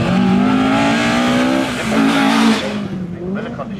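Two Ford Escort rally cars run together on a live rally stage at Stoneleigh, engines revving loudly up and down with a sharp tyre squeal before the sound fades as they pass.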